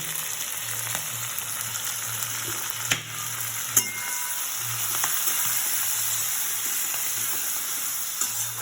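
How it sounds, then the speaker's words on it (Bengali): Ginger, onion and garlic paste fries in a hot pan with a continuous close, steady sizzle, broken by a few sharp utensil clicks and scrapes as it is stirred, with no talking. "একটু ভেজে ভেজে নিয়ে তারপরে মশলাটা দিয়ে কষাবো।"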